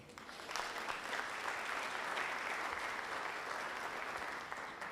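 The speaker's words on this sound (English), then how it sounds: "you clapped for the deputy inspector" An audience at an NYPD High Holy Days security briefing applauds Deputy Inspector Mark Molinari, with steady, dense clapping that holds for several seconds.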